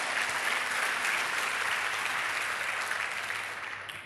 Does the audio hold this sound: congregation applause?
yes